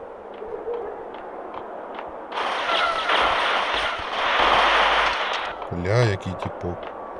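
Gunfire in the shooter game Max Payne, a dense, loud burst of rapid shots lasting about three seconds, followed by a few sharper single reports, with quieter game ambience before and after.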